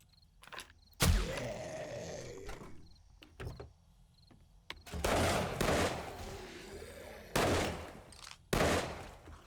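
Desert Vulture pistol shots in a video game, a handful of loud, sharp reports spaced a few seconds apart, each with a short booming tail and no speech between them.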